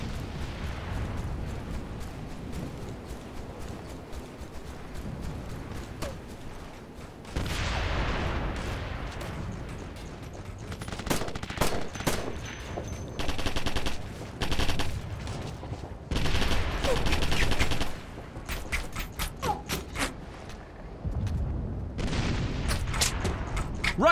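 Sustained gunfire and heavy explosions in the war shooter Operation Flashpoint: Red River, with dense bursts of rifle and machine-gun fire and repeated loud booms, continuous and close throughout.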